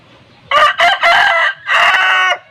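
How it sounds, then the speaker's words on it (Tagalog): A rooster crows loudly and close by, one long multi-part call with a brief break before the drawn-out final note. "manok ko dyan at laging nagtitilaok"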